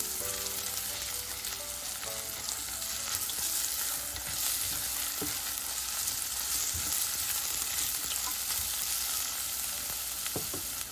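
Onion frying in a pan with crushed garlic and ginger for tomato pulao, a continuous bright sizzle with scraping stirs throughout, close and steady with no talking.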